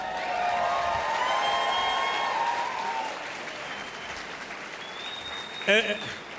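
An audience at a pro-life gathering claps in a sustained round of applause, fairly steady then thinning out, with a few voices and a whistle-like tone rising above it.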